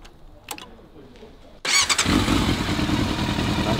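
A Yamaha Thundercat motorcycle engine kicks into life after a quiet moment with a couple of clicks, then runs loudly and steadily, revving slightly, close by.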